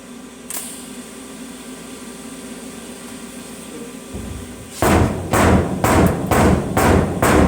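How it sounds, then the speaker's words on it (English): Hammer striking heated metal on a 1957 Chevy body, several loud, close metallic whacks in an uneven series following a quieter stretch of workshop hum. "I'm gonna give it a whack right there because we got a crease forming."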